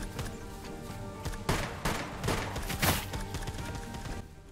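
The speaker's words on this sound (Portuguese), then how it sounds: "Tá atirando aqui de cima." Gunfire in the survival game SCUM, several sharp shots spaced irregularly over a continuous rumbling background, moderately loud and close.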